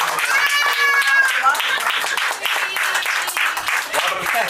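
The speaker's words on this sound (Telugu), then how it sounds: "ఆమె చప్పట్లు కొట్టండి" Guests clap at a baby's annaprasana rice-feeding ceremony held with a Christian blessing. The steady applause runs throughout, mixed with a melodic voice and music.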